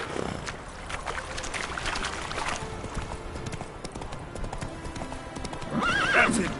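A horse gallops in a PS4 video game, its hooves pounding out a rapid, continuous clip-clop under a rushing background, with a whinny near the end.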